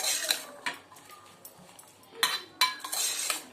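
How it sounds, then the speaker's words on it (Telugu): A spoon clinks and scrapes against a bowl while peanut chaat ingredients are stirred and mixed, with irregular sharp metallic taps up close and quiet pauses between strokes. "వీటిని మంచిగా మిక్స్ చేసేసి"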